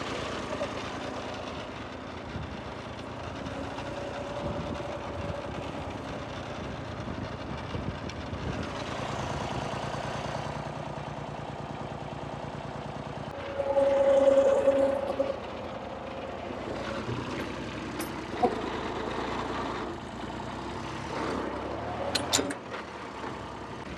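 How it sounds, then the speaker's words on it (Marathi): Tractor engine rumbling and idling as it is driven into water on a farm, a continuous low drone with shifting revs, a brief louder surge midway, and voices talking over it. "आता पाण्यात टाकायचं ट्रॅक्टर आपल्याला पाण्यामध्ये टाकायचं"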